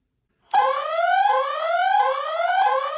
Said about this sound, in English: Motion siren settings.